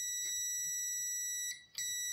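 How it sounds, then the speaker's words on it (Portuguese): Steady high electronic beeping from a multimeter continuity tester probing a TCL L39S4900FS TV circuit board, a continuous tone with short bursts of clicks and a brief dip near the end, no talking. "Então, aqui tá bipando, aqui também."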